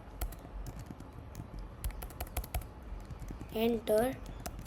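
Irregular clicks and taps of a computer keyboard as C code is typed, close and fairly quiet, with a short spoken voice near the end.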